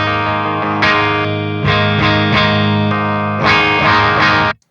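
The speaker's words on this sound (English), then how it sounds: "Let's start by taking a listen to how the amplifier sounds with the pedals off." An electric guitar plays through an amplifier with pedals off, a clean tone with mild breakup, loud sustained strummed chords changing every second or so, ending abruptly.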